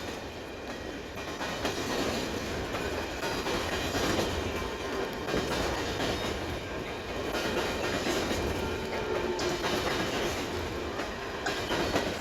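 A loaded coal train rolls past near a river, a continuous heavy rumble with rhythmic clickety-clack of wheels on rail joints, loud and close for the whole stretch, no talking.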